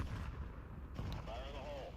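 In Counter-Strike 2, a thrown grenade goes off as low, booming blasts amid ongoing gunfire, and a voice speaks over the second half.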